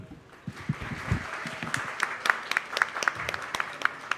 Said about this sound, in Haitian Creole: Un gros applaudissement pour le drapeau.